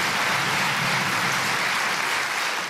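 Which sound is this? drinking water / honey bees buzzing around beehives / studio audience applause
studio audience applause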